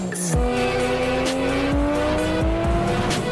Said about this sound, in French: Ok, accélération.